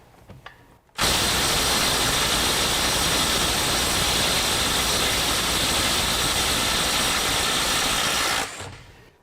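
A DeWalt DCF923 Atomic cordless impact wrench running on a 4 amp hour battery hammers loudly and continuously for about seven and a half seconds while breaking a bolt free, then cuts off abruptly.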